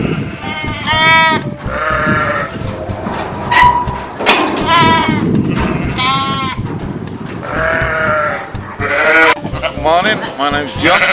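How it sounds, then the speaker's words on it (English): Sheep bleat repeatedly from several animals at close range on the Holkham estate farm, where the flock is being sorted, with someone talking over the loud, overlapping calls. "I'm just stood here with sheep"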